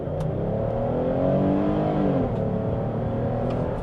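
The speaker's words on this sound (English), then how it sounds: "if I just floor it, let's see how much speed it has" A Chrysler Pacifica minivan floored from inside the cabin, its engine droning and climbing steadily in pitch under full throttle, with a constant road and wind rush throughout.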